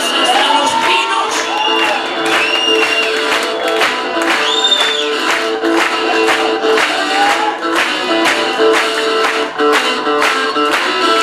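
A concert crowd at a show claps in a steady rhythm and cheers and whoops loudly, a dense, continuous roar of many people with rhythmic beats running through it.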